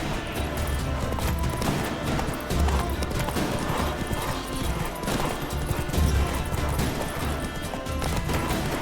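Geralt's horse Roach clip-clops along in The Witcher 3, the loud, steady hoofbeats of a gallop running under a busy game soundscape with occasional crashes.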